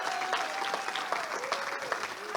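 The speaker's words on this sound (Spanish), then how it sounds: "Dale fuerte el aplauso al Señor." Congregation in a church service claps steadily, a soft, somewhat distant wash of applause under a sustained musical tone, quiet overall with faint voices mixed in.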